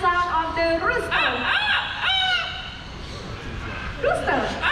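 A parrot at a bird park show in Singapore mimics a rooster, with several drawn-out, crowing calls rising and falling, close and clear, and a presenter's voice talking around them.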